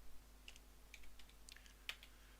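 Computer keyboard being typed on, a few quiet separate key clicks spaced unevenly over a low steady hum.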